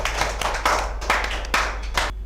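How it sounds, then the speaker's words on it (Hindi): An audience at a Hindi kavi sammelan claps in welcome for a visiting poet from Gwalior. The claps come as a few uneven bursts of moderate loudness, then stop abruptly. "जोरदार तालियों से अभिनंदन"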